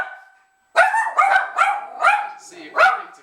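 Several dogs bark in a quick series of five or six close, loud barks with a short gap before them; a voice talks nearby.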